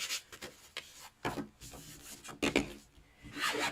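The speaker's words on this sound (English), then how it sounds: "Just give that a little rub." Paper glued onto a butterfly pop-up card is rubbed down by hand, giving soft, close scratchy swipes in several short strokes, faint and with no talking.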